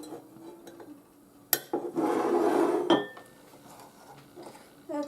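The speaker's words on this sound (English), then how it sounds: "now we're just going to whisk everything together" Whisk clattering and scraping in a bowl while mixing marinade ingredients for a spicy Asian-style pork roast, a few sharp clinks followed by a busy stretch of stirring, close and moderately loud.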